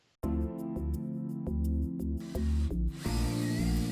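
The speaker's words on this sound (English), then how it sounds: "I'm starting by drilling some holes in the acrylic." A power drill bores holes into acrylic sheet, a loud continuous whining motor drone with rhythmic pulsing as the bit bites, pitch shifting slightly near the end, close and alone.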